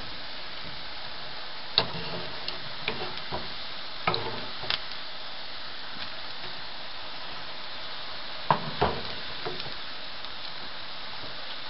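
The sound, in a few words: murukku deep-frying in oil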